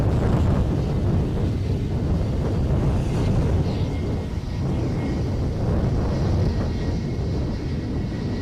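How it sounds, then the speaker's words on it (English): Gusty wind roars across the microphone at Edinburgh airport, a loud, continuous buffeting rumble that swells and dips, with no voices. "Just nice if this wind would ease a little bit. It's starting to move the tripod around."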